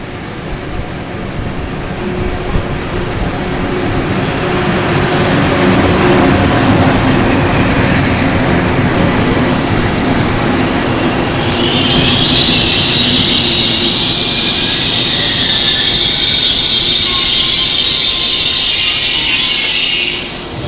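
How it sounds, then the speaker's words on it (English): A train arrives at a station in Padua, Italy, with a loud, building rumble that holds steady, joined midway by a high-pitched whine and hiss as it pulls in. "Here comes our train."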